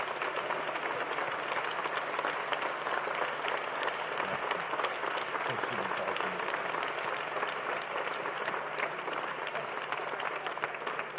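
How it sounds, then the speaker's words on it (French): Audience at the closing of a palliative-care congress in Marseille applauding together, a dense, sustained wash of many hands clapping that holds steady for the whole stretch, with faint voices mixed in. "je pense qu'on peut vraiment s'applaudir tous ensemble pour ce congrès"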